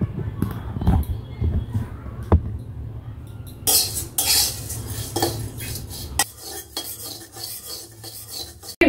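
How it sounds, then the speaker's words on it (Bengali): Flattened rice stirred in a hot wok with a metal utensil gives repeated scraping and clattering, loud and close, with someone speaking at times over the cooking. "কড়াই চিরা দিয়ে দিয়েছি।"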